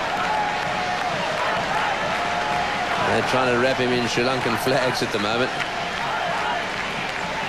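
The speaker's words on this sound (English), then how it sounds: "The crowd to a man are cheering these Sri Lankans." A cricket stadium crowd cheers a Sri Lankan team's victory, a dense, steady roar with clapping and a band playing, while a commentator talks over it.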